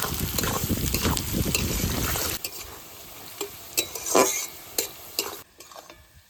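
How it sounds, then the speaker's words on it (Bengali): Sliced onions frying with salt in a pan, a strong crackling sizzle with stirring for the first couple of seconds, then quieter frying broken by sharp utensil clinks and scrapes against the pan. "পেঁয়াজগুলো ভালো করে ভেজে নেব"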